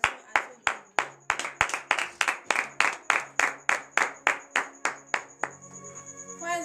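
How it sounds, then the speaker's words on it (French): A congregation at a morning prayer service in Benin claps in a steady, loud rhythm of about twenty sharp beats, with faint voices and a sustained tone underneath, ending in a short trail of scattered sound. "nous allons nous lever et donner de vives acclamations à ce Dieu"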